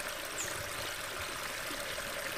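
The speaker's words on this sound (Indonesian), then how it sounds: "Suara air kemericik bikin hati tenang, pikiran damai ya." Steady trickling water in a stream, a constant bubbling rush close by with no voices.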